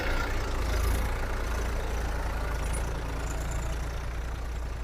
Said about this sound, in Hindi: ये ट्रैक्टर जाएगा अंदर।